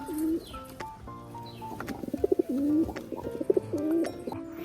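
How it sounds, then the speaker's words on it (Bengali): Pigeons kept at a home loft coo in several close, rising-and-falling phrases, with light fluttering and scuffling sounds between calls. "তো পায়রাগুলোকে ওপর থেকে নিচে নামাবো"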